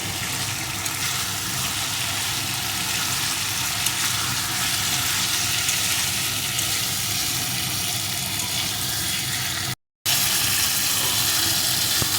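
Potato and pointed gourd sauté with spices in a pan for a Katla fish curry, giving a steady, close, moderately loud broadband sizzle that runs unbroken, with one brief dropout near the end and no talk.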